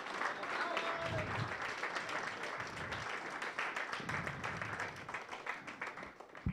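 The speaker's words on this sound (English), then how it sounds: "Can we please get one more round of applause for all the participants?" An audience at a showcase event gives the participants a sustained round of applause, a dense wash of clapping from many hands that runs throughout and only begins to thin at the very end.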